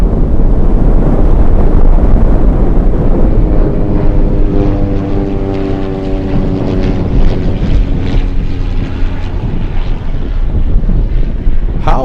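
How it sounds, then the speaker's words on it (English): Cessna Grand Caravan turboprop landing on runway 15 at Anchorage in gusty winds, a steady loud propeller drone with rising harmonic tones, heavy wind buffeting the microphone throughout. "let's go over to the Grand Caravan coming in"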